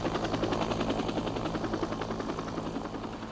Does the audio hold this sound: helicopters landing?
yes